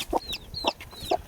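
Chickens cluck in three short repeated bursts about half a second apart, close and fairly loud with no talk, as the birds are set out to warm up.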